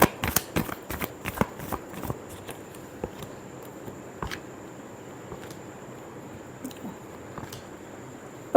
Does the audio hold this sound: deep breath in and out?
no